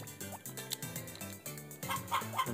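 A chicken in the Harvest Moon video game clucking in a quick series of short, tonal, repeated clucks, moderately loud over a background game melody.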